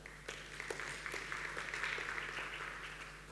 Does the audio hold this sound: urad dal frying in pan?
no